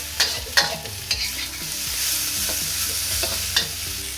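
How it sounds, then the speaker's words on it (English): Ginger, garlic and onions cook over medium heat in a pan, sizzling steadily while a utensil stirs and scrapes in a few sharp clatters; no one speaks. "Cook it on a medium heat, just until the onions have softened a little bit."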